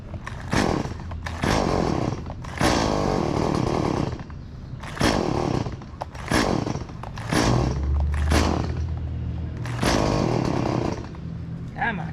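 A loud chainsaw nearby felling a dead tree revs in repeated bursts, roaring then dropping back between cuts, with a rumbling idle underneath.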